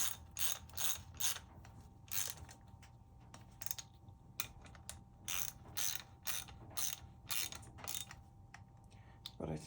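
A hand ratchet clicks in quiet bursts of rapid ticking while case bolts are snugged down, each burst separated by short pauses, close and fairly soft.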